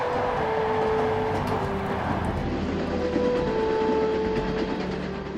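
A train rumbles along steadily with a low, continuous roar and faint tonal hum, moderately loud and unbroken throughout, travelling through Uzbekistan as it enters Bukhara.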